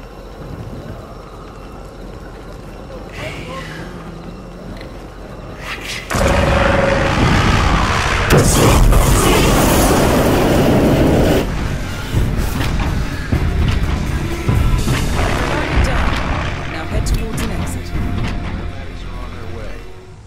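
A loud, dense blast bursts into the Hitman game scene about six seconds in, then a sustained roaring rumble tails off, all under ongoing game speech and ambience.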